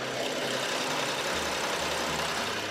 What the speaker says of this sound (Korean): 엔진 소음을 담기 위해 본네트를 한번 열어봤는데요